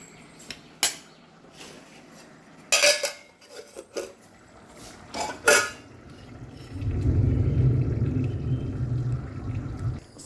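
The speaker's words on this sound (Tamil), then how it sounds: "இப்படி ஓரத்தில் விட்டு இப்படி இப்படி கிளறி கொடுத்திங்கன்னா நல்லா ஈவனாக வேகும்" Mushroom biryani is stirred in a pot with a metal ladle, producing scattered scrapes and clanks against the rim, followed by a longer low rumbling stretch of steady kitchen noise.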